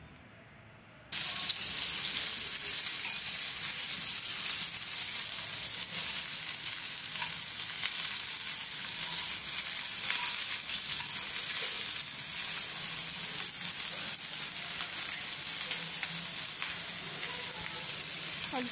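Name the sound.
capsicum and onion frying with tiger prawns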